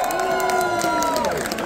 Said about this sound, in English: Please give them a big cheer!